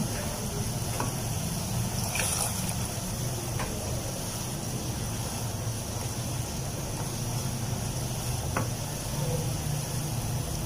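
Hot water added bit by bit to boiling homemade sugar syrup for red sharbat while it is stirred, giving a steady close hiss and bubbling wash with a few faint clinks, continuous and without speech.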